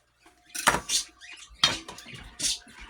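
A potato piece is scraped off the side of an Instant Pot full of oxtail soup, producing a few close metallic scrapes and clinks in short bursts with nobody talking.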